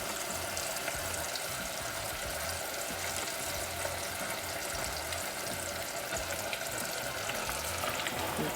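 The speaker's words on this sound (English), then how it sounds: "it's been about 6 minutes and our catfish is frying" Catfish fillets deep-fry in hot oil, a faint, continuous crackling sizzle with fine bubbling pops holding steady throughout.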